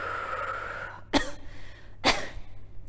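Two sharp, forceful coughs a second apart, close by, over steady breathy background noise.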